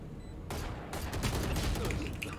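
Rapid gunfire from a video game shooter, several close, loud bursts of shots crackling in quick succession after a short quiet start.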